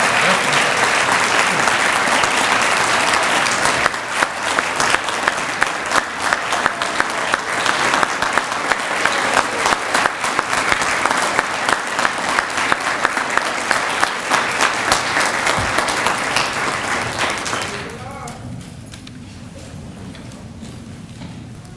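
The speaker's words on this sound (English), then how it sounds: "Can we just give them one more round of applause?" Prolonged applause from an audience fills the room at an emergency services academy graduation, dense and loud for most of the clip before thinning out toward the end.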